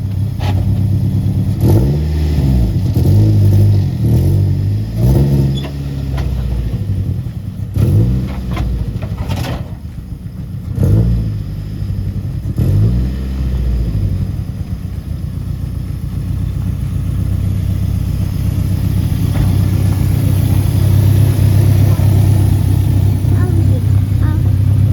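A loose Nissan 240SX S14 being rolled off a tow dolly outside a shop, its engine idling with rough low rumble while clattering knocks and brief revs break through, people talking nearby.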